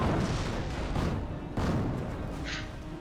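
Mortar fire in Company of Heroes during a World War II battle, a few muffled booming impacts over a dense rumbling game soundscape, with no talking.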